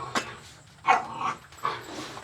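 Dogs give a few sharp, separated barks and yips, moderately close, spaced out over a couple of seconds against a quiet background.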